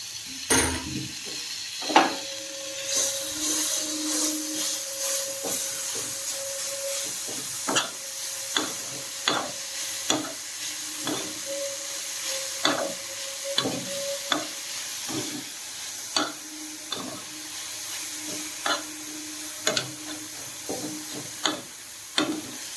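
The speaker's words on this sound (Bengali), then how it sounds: "ক্যাপসিকামটা ভাজবো এবারে তো ক্যাপসিকামটা ভাজা ভাজা হয়ে গেছে" Capsicum with tomato and chilli sizzles in a pan while a utensil stirs it, sharp regular scraping strokes every second or so over a steady frying hiss, with no talk.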